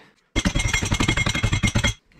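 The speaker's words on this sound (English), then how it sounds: "I'm going to try to hammer that cotter pin out." Rapid metallic hammer blows drive a cotter pin out of an RV power jack, about twenty sharp, evenly spaced strikes ringing loud and close for under two seconds.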